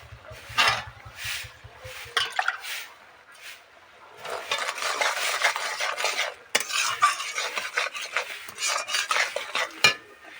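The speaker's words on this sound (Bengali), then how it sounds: "এবার এটা একটু কষিয়ে নেব" Spices with salt and turmeric are sautéed in a pan, a utensil scraping and clinking against the metal in repeated strokes up close, with a light sizzle underneath and no talk.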